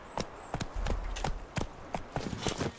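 Clip-clop of the horse Roach's hooves in The Witcher 3, a brisk, regular series of close hoof strikes with a brief low rumble in the middle, no talk.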